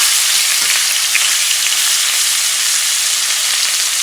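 Ribeye steak sizzles steadily in a hot pan on a stovetop, a loud, dense, continuous frying hiss with no pauses and no voices.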